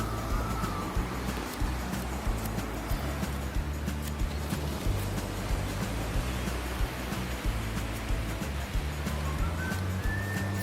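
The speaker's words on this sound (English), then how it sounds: "the sound of water is so soothing" Sea waves washing onto a beach in Mumbai, a steady broad rushing roar that fills the whole stretch, with low rumble and wind underneath, no talking.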